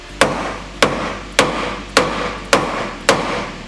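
Six sharp metallic hammer blows strike a Mazda Miata suspension joint at an even pace about half a second apart, each ringing briefly, close by with no talking.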